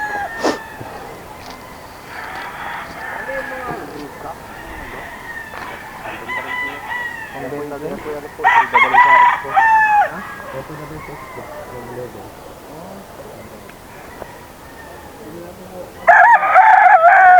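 Gamecock stag roosters, about eight months old, crow repeatedly at a farm, with loud bursts standing out near the middle and at the end, while people talk through much of it.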